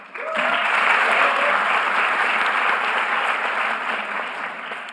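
A crowd applauding at a town hall meeting in Jeju, a sudden burst of clapping that swells into a broad, sustained roar of applause and stays steady throughout.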